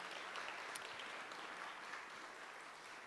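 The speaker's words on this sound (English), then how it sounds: "Another big round of applause, please, for all three." Sustained applause from a conference audience, even and continuous, somewhat distant and fading slightly toward the end.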